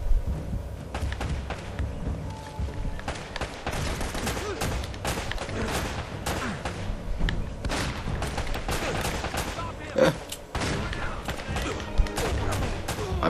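Gunfire in the video game Uncharted: Drake's Fortune, with dense bursts of shots and impacts running almost continuously over a background game mix, briefly dropping out before resuming loud.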